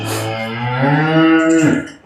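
A Jersey cow gives a single long, loud moo close by, rising and holding before breaking off, with nothing else heard.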